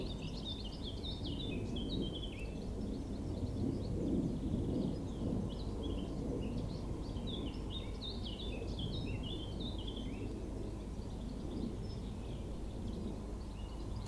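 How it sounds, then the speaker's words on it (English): Outdoors, a steady low rumble of wind fills the air while small birds chirp and twitter faintly in scattered bursts throughout. "Not the cars, not the planes, just the birds and the wind."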